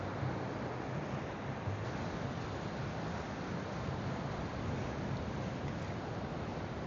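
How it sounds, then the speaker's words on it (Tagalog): Surf washing along a rocky hidden beach at Baler, Aurora, heard as a steady, continuous broadband roar with wind, no distinct individual wave breaks standing out. "Tingnan nyo guys, doon lang yung may alon, dito banda wala."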